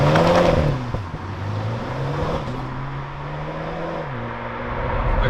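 A BMW 128ti hot hatch pulls away from rest, its engine note rising steadily and holding a droning tone, then dropping slightly at a gear change, close and continuous with no talk.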